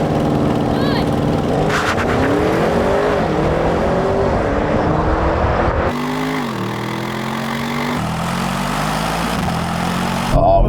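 BMW M5, Audi RS6 and AMG E63S estates launching in a drag race, loud engines roaring up through rising revs with sharp gear-change drops and a sudden shift in tone partway, with brief voices.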